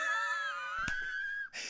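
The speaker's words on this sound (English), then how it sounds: "And then he does this spin in the air and this scream." Emperor Palpatine lets out a long, sustained wailing scream in a Star Wars film scene, loud and alone, with a sharp impact partway through and a noisy burst at the end.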